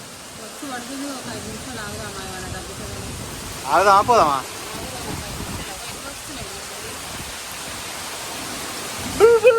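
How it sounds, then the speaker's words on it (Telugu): Heavy rain pours down in Hyderabad, a dense continuous hiss filling the whole stretch while someone talks over it and another voice briefly speaks up. "వర్షం అయితే ఫుల్గానే వస్తుంది రచ్చ రచ్చ వస్తుంది వర్షం"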